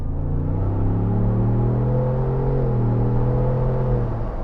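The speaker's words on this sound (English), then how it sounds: "We normally do a 50 km/h test to showcase the transmission response." A Ford Bronco Wildtrak 4-door with a turbocharged engine accelerates steadily up to about 50 km/h, a loud, continuous low engine drone with a slowly rising pitch heard close from inside, with no talking.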